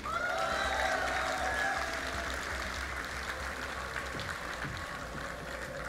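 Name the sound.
crowd cheering and applauding at esports event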